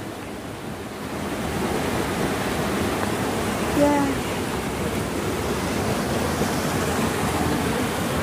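Floodwater from a forest stream rushes in a steady, dense roar as it pours over a series of small waterfalls. The sound is loud and constant, with a brief voice near the middle.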